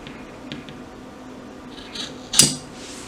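Scissors clip fabric corners for a cell phone wallet, giving a few faint, quick snips scattered over a quiet background, the last one slightly louder and crisper.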